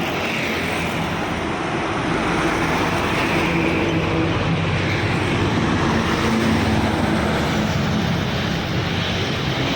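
Steady, loud rumble of a Putra Pelangi bus passing on a road, a broad engine and tire roar that stays even from start to finish.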